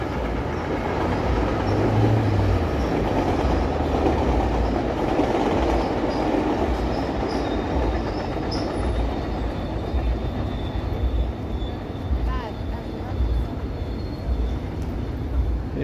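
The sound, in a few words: passing train in downtown Toronto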